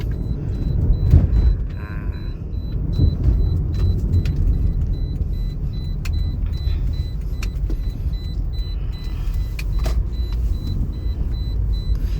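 A 2010 Toyota Altis 1.8 G with automatic gearbox accelerates, its engine and road rumble forming a steady loud low drone throughout, with a few faint clicks and whirs from inside the cabin.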